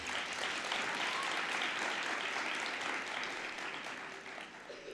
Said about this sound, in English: I want them to give themselves a round of applause.